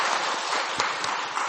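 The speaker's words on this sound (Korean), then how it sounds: "영광의 박수를 주님께 돌리십시다." Church congregation applauding during a Sunday worship service, a steady dense wash of clapping with a few sharper hand claps standing out, moderately loud and continuous throughout.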